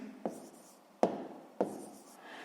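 Math is written by hand during a sixth-grade arithmetic exercise, producing quiet, close scratching strokes with three distinct taps of the writing tool on the surface.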